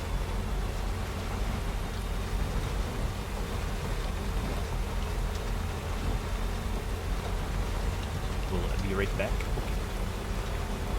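Steady video game rain, from Death Stranding, hisses in the background throughout, with a person speaking briefly near the end.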